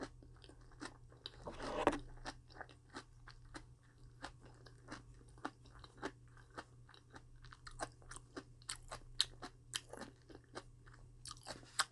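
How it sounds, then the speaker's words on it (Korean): Cabbage wraps with vegetables being eaten up close, crisp crunchy bites followed by a long series of soft, repeated chewing sounds, quiet and intimate with no talking. "양배추 쌈 먹을게요."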